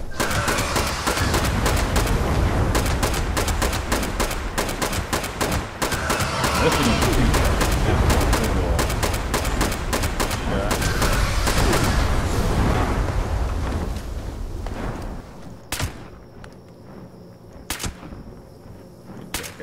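Pistol fire in Fallout 76 crackles in rapid, dense volleys for most of the stretch, then thins to a few isolated sharp shots as the din fades, with voices talking over the action.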